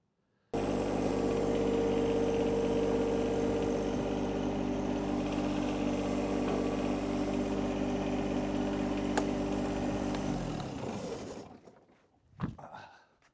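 A John Deere 2025r compact tractor engine idles steadily and loudly for about ten seconds, then shuts off and winds down, followed by a brief clunk and near silence.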